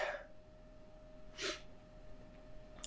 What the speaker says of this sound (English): Tried to avoid sneezing.